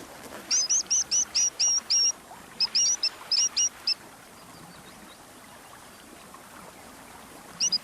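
A dipper gives a rapid series of sharp, high chirps in two bursts, then a short pair at the end, over a soft background of rushing water.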